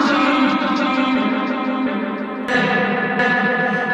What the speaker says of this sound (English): I just added a delay to it, and I just kind of messed around with his parameters drastically, and just came up with these wild sounds